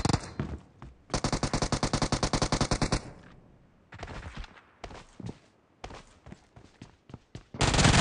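Rapid automatic gunfire in the mobile battle royale game PUBG Mobile, with a dense burst of evenly spaced shots, scattered single shots, then another burst at the end. Footstep-like sounds appear between the shots.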